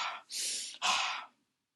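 In a childbirth-skills class, a person breathes in through the nose and out through the mouth: a short breath, then a longer airy one, and a final breath that fades into silence.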